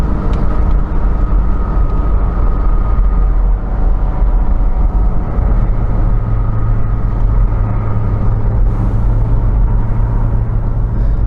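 Porsche 987 Boxster engine while driving, held below 3,500 RPM: a steady, close, loud droning rumble with a deep low tone that thickens slightly partway through, alone with no voices.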